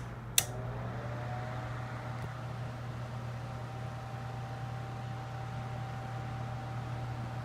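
A 1970s Hoover Model 6708 10-inch oscillating desk fan runs on high with oscillation engaged, giving a steady, even motor hum and airy whoosh, preceded by a brief sharp click near the start.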